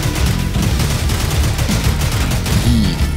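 Dense, continuous gunfire fills a S.T.A.L.K.E.R.-style shooter game in the Exclusion Zone, loud and close, with overlapping bursts and rumbling booms running throughout and no voices over it.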